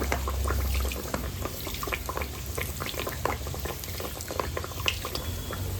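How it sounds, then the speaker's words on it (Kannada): Layered chiroti pastry fries in hot oil, with hot oil spooned over it, giving a dense, steady bubbling crackle close by, with small pops and spoon sounds scattered through. "ಬಿಸಿ ಎಣ್ಣೆನ ಚಿರೋಟೆ ಮೇಲೆ ಹಾಕ್ತಾ ಇದ್ರೆ ಈ ರೀತಿಯಲ್ಲಿ ಲೇಯರ್ ಲೇಯರ್ ಆಗಿ ಚೆನ್ನಾಗಿ ಬರುತ್ತೆ"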